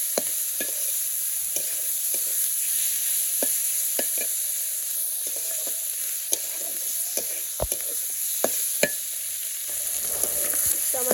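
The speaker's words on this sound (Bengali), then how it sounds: "পেঁয়াজ ভাজা হয়ে গেছে, আমি এখন চামড়াগুলো দিয়ে দিব। তো চামড়াগুলো আমি কষিয়ে নেব" Chicken skins sauté with fried onions in a pan in a village kitchen, a steady sizzle throughout punctuated by regular scraping clicks of a stirring utensil, close and even, with no talking.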